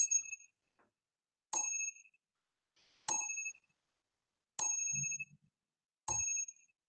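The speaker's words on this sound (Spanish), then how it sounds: "Ese reloj que tengo aquí en mi espacio en la casa, que tiene su campanita, son las 12 en punto." A small desk clock with a little bell rings out the hour at twelve o'clock, giving five clear, bright dings spaced about one and a half seconds apart in a quiet room.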